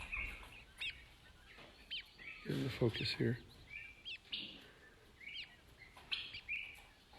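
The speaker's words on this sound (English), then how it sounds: "here's our first batch of quail hatchlings. They're small birds." Small quail hatchlings chirping in a homestead brooder, thin high peeps scattered throughout, with someone talking briefly in the middle.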